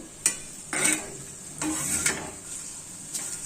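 Okra fries in a hot kadai for a curry, a moderate sizzle broken by several spatula scrapes and clinks against the pan at an irregular pace.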